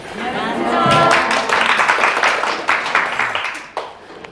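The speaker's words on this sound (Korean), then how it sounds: "아침부터 박수 받으면 기분이 좋습니다" Lecture-hall audience clapping at the start of a Korean real estate agent law class, a dense burst of applause rising and trailing off over a few seconds, with a few louder individual claps near the end.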